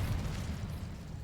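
The Incendio fire spell from Hogwarts Legacy, a dense, roaring whoosh of flame heard close and loud, sustained with no pauses.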